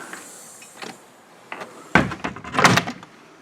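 A wooden barn door on a farm swings on its spring closer, giving a few light knocks and creaks, then a sharper thud and a rattling clatter near the end, close by.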